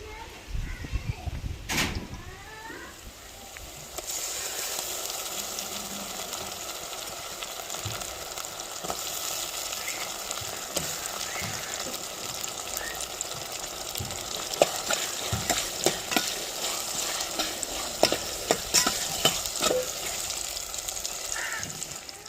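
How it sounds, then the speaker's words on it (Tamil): Steady sizzling of onions, green chillies, ginger paste and tomatoes sautéing in a pan for mutton curry, continuous throughout, with occasional stirring clatter and faint voices in the background. "வெங்காயம் பச்சை மிளகாய் இஞ்சி பேஸ்ட் தக்காளிலாம் வதங்கி வந்துருச்சு"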